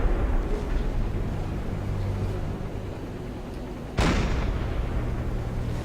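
A submarine deck gun fires an armor-piercing shell in Silent Hunter 4, one loud sharp blast over a steady rumbling ocean and engine bed.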